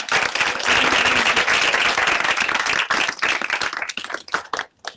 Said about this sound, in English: let's give another round of applause to the fellows who've already presented